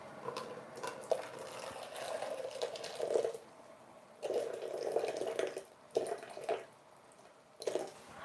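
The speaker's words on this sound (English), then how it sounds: "So we've got 175 mils of boiling water here that I'm just pouring." Boiling water, 175 ml, poured into a bowl while making a chocolate cake, giving a soft splashing pour that comes in several bursts with quiet gaps between them.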